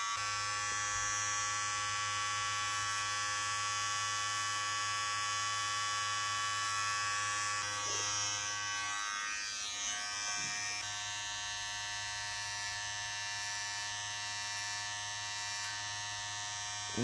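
A Hatteker SK100 hair clipper runs with a steady, close electric buzz, its pitch and load shifting briefly midway before settling into the same even drone.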